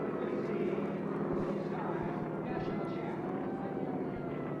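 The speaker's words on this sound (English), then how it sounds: "the white and yellow airplane, Vitaly Pechersky out of Van Nuys, California. Airplane we know as Abracadabra, another AT6" A white and yellow AT6 racing airplane at a T6 air race roars past with a steady, rough engine drone that swells and fades slightly, while an announcer talks over it.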